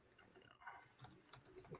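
Quiet, close typing on a computer keyboard, a scatter of light irregular key clicks with a few sharper taps toward the end.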